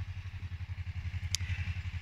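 A tractor working in a field while raking throbs steadily at a low pulse, its engine chugging at a moderate distance, with a brief sharp click partway through.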